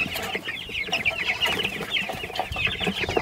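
Backyard chickens clucking steadily in a farm coop, a continuous run of overlapping, mid-distance clucks from several hens with no voices over them.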